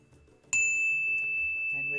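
A single bell is struck once, giving a bright, clear ding that rings on and sustains steadily over a quiet background during a live meditation-style session.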